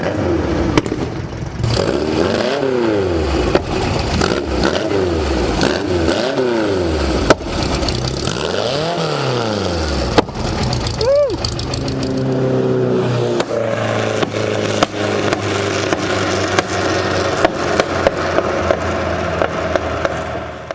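A modified 200 hp 1967 VW Beetle with a big cam and a short exhaust revs repeatedly in loud rising and falling sweeps, then settles into a lumpy, clattering idle up close.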